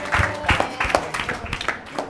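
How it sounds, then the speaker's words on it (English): Audience applause at a Bible quiz, a thin scattering of individual claps in an uneven rhythm from a small group, fairly close and moderately loud. "Let's all give them a round of applause."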